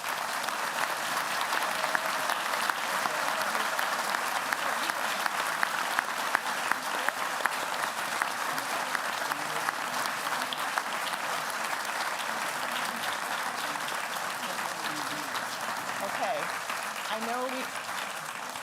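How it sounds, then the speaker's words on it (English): At a Harvard Kennedy School reunion talk, the audience gives Dean Jeremy Weinstein a long round of applause, a thick, continuous roar of clapping hands that holds steady from start to finish, with faint voices mixed in. "I would love it if we could give Jeremy a round of applause"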